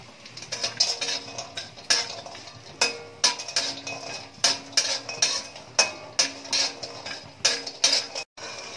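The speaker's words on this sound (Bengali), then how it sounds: "বড়িটাকে একটু ভেজে তুলে নেব।" Lentil dumplings (bori) fry in mustard oil in a wok, with repeated metallic clinks and scrapes of a utensil against the pan over a steady low sizzle, close and fairly loud.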